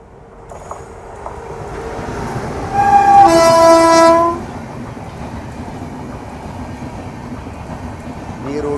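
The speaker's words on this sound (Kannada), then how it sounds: "ಇಲ್ಲಿ ಬಂತು ನೋಡ್ರಿ 1 2 1 3 4 Mangaluru junction Chhatrapati Shivaji Maharaj terminus KR rocket." A Konkan Railway KR Rocket express from Mangaluru Junction to Chhatrapati Shivaji Maharaj Terminus passes close by. Its steady rumble is broken by one loud, drawn-out horn blast lasting more than a second midway through.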